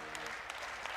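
Many hands clap together in a crowd gathered for a Hindu religious discourse, a brief, dense, uniform wash of applause with a few slightly sharper claps poking through.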